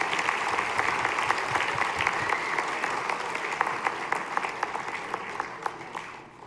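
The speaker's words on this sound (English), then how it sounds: "Applause all around" Sustained applause from a school concert audience, dense clapping throughout that fades slightly near the end.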